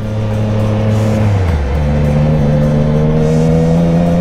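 Cars and motorbikes roll through dense road traffic near a Honda safety driving center, engines droning steadily with pitches shifting as vehicles pass close by, loud and continuous with no talk.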